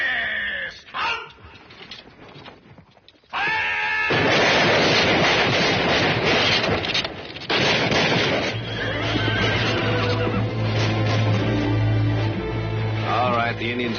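Cavalry horses neighing loudly as soldiers dismount in a dramatic western battle scene, with several whinnies over a dense, noisy clamour and a low rumble beneath.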